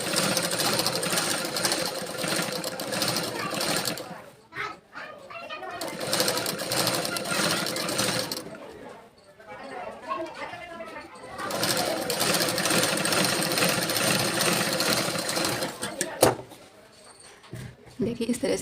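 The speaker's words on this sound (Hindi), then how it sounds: "इस तरह से एक चाप दबा के हम सिलाई को लगा देते हैं।" Sewing machine stitching the neck of a blouse, running in long steady whirring bursts with short pauses between them, while a person talks during the gaps.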